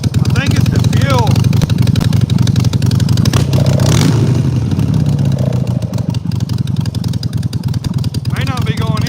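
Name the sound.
motorcycle engine running rough, possible fuel problem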